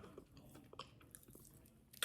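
Close chewing of crispy fried chicken wing skin gives soft, irregular crunches and bites, fairly quiet, with a sharper crunch near the end.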